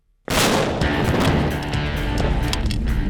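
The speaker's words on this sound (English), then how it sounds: "Explosions are sort of a cathartic release." A large explosive blast on MythBusters bursts in suddenly after a brief silence, a loud, close boom that rolls into a sustained roar of debris and rumble lasting several seconds.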